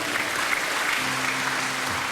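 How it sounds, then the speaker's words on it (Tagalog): Steady applause from a crowd at a church-style service, a dense wash of clapping that holds evenly throughout, with a faint hum underneath. "lakasan po natin yung ating palakpak sa Diyos"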